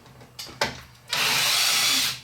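Power driver backing small Torx screws out of a JW Speaker headlight on a JK Wrangler: a couple of light taps, then a loud, close whir for about a second.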